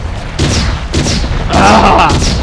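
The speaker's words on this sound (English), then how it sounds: "Enjoy the pain of explosions." Three booming explosions in Red Faction go off in quick succession, each a sharp loud burst followed by a crackling rumble.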